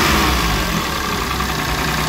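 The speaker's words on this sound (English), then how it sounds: "First start after the full service and all those little bits cleaned." A Citroen C1 small city car engine idles just after a full service, a close, steady, throaty rumble with an even mechanical chatter throughout and no voices.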